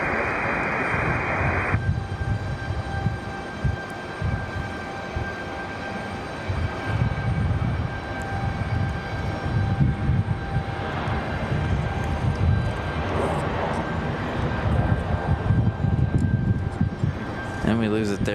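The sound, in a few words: American airliner departing, jet engine noise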